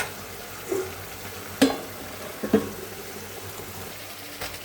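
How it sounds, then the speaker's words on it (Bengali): Spices fry in a pan with a soft, steady sizzle, and a few sharp scrapes and clinks from stirring stand out at irregular intervals, close by and fairly quiet, with no talking. "মশলাটা কিন্তু ভাজা হয়ে গেছে"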